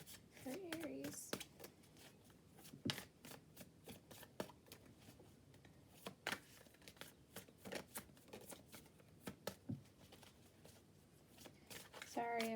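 Tarot cards are shuffled over and over, quick crisp riffles and soft slaps in an irregular rhythm, close and fairly quiet.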